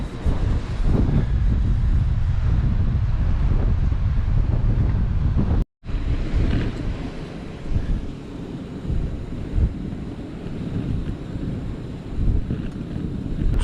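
Strong coastal wind on Hilbre Island roars steadily and loudly, heavy low buffeting gusts pounding the microphone throughout, broken by a momentary cut of silence partway through, with no voices.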